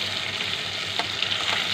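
Chopped chilli stirred with a big spoon in hot oil, giving a steady close sizzle and crackle with a few brief scraping accents, no voices.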